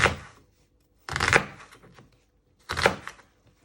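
A knife dices onion on a cutting board while a lamb pie is being made. Three separate bursts of crisp, rapid chopping are heard close up, with quiet gaps between them.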